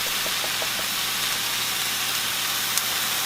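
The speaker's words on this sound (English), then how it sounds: "Now we're just going to cook our venison, our ramps, or onions, depending on what you're using" Venison and ramps, or onions, with garlic sizzling in a pan, a steady close broadband hiss that holds evenly throughout with no talking.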